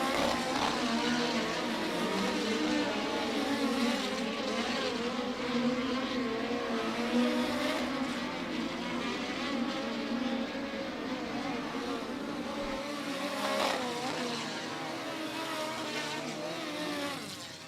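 Race cars running hot laps on the Kokomo Speedway dirt track, a continuous layered engine roar with wavering pitch from several cars circling at middle distance, broken by brief louder bursts as they pass.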